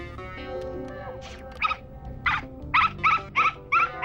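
A dog in a room gives a series of short, nasal whimpering yelps, growing more frequent toward the end, close by over a low background rumble.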